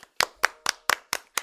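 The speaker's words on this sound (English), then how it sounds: "So give it a round of applause, guys." Six sharp, evenly spaced hand claps from a small group or a single person, close and crisp with short silences between them, a slow rhythmic round of applause.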